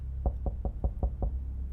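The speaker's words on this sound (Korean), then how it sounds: "누가 벌써 문을 두드리는데?" In a video game, a door is knocked on with six steady, heavy thuds in an even rhythm. The knocks sound close and dull and stand alone, with no talking.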